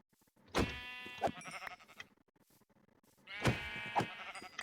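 A sheep in Minecraft hardcore survival bleats twice, each call a clear, wavering cry separated by a short quiet pause.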